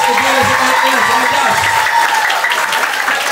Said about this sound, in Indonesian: Tepuk tangan semua buat anak-anak PEC